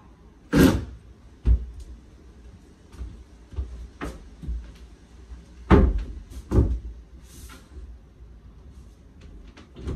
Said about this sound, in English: That's gonna get it, man. I just gotta tighten the door up.